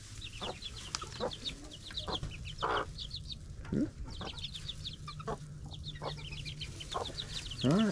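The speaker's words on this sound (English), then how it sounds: "Let's see how the little chickens are doing." Olive egger chickens cluck and squawk repeatedly at close range, with short bursts and a few rising calls scattered through the coop; no talking is heard.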